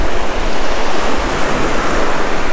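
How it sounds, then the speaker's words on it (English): Strong wind on a beach blasts straight into the microphone during surf fishing. A loud, constant roar of buffeting noise mixes with crashing surf and covers everything else. "That wind is whipping. I don't know how good this mic's gonna do in that wind."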